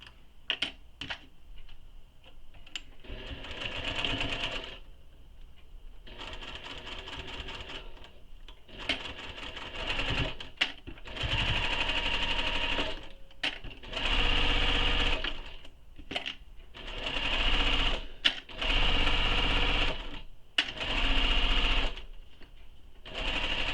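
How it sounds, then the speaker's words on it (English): A home sewing machine stitches a fabric seam up close in many short bursts of rapid needle chatter, starting and stopping repeatedly with brief quiet gaps and faint clicks between runs. "So we're going to sew this with the seam allowance given in the pattern."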